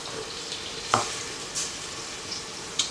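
Garlic and coriander sizzling softly in a heated home-kitchen pan, a faint steady hiss broken by a few brief clinks of a utensil.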